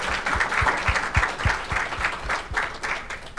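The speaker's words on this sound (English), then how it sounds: "another round of applause for these guys" An audience at a California transportation workshop applauds steadily, a dense room-filling clatter of many hands with rhythmic individual claps standing out.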